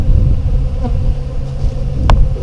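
Steady low buzzing of honeybees around a backyard hive during an inspection, continuous and close, with a faint brief click near the end.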